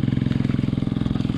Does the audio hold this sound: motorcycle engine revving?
yes